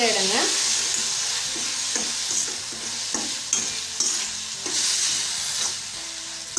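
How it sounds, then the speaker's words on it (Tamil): Okra (bhindi) sautés in a pan for a spicy masala fry, a loud, close sizzle broken by repeated scraping strokes of a spatula stirring at an uneven rhythm. "ஒரு 2 நிமிஷம் வதக்கிட்டுனா ரெடி ஆகிடுங்க."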